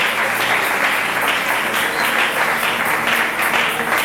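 Steady applause and acclaim from a church congregation at a French-language worship service, a dense wash of clapping and cheering that holds loud and even throughout.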